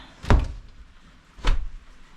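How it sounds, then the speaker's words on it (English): A door swung shut in a home kitchen, two separate thuds about a second apart, the first sharp and low, the second a heavier closing knock, with quiet room tone between. "Just gonna close the door"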